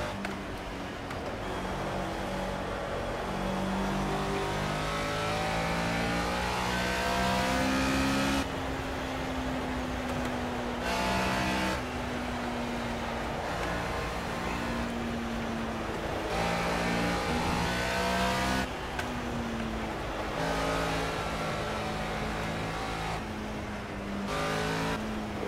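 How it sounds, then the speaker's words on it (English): A race car engine in the Project CARS video game revving steadily with abrupt gear changes and throttle blips on downshifts, a continuous engine drone with pitch rising and dropping repeatedly and no talk over it. "I'm probably over-revving the engine significantly by blipping that hard"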